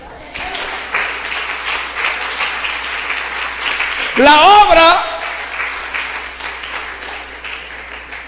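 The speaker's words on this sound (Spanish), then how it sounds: "Dele un aplauso al Señor." Church congregation applauding steadily throughout, with a preacher speaking over the clapping and a brief louder vocal burst near the middle.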